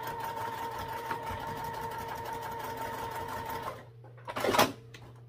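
A sewing machine stitches across a fabric backpack strap, running steadily for several seconds before stopping; a short rustle of the fabric being handled follows.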